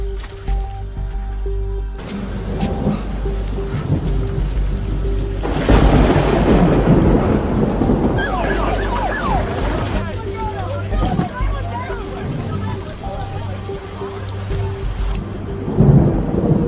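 Steady rain pours with a deep rumble of thunder rolling in from about six seconds on, while voices murmur faintly beneath the downpour.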